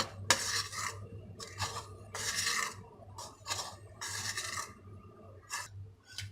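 A spoon scrapes and stirs flour, oil, baking soda, baking powder and salt in a bowl for pizza dough, with quiet, close bursts of rubbing strokes in an uneven rhythm and brief pauses between.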